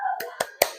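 Three sharp group claps land in a quick rhythm as a classroom tepuk semangat cheer, each burst crisp and close, with a faint tone lingering at the start.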